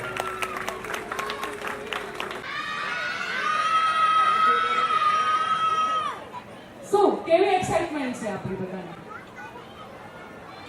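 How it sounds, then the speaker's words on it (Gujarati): An audience at a Pokar family community gathering claps for the Dada family, with quick bursts of applause near the start, then sustained tonal music and chattering voices. "એકવાર તાળીઓ થઈ જાય દાદા પરિવાર માટે."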